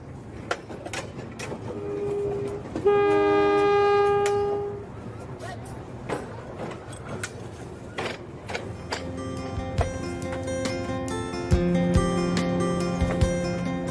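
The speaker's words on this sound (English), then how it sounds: "the bright red locomotive pulls the luxury train into the Zambian" A luxury train hauled by a bright red locomotive rolls over old colonial-era rails into the Zambian interior, sounding a single sustained horn blast partway through amid rumbling track noise and a voice speaking.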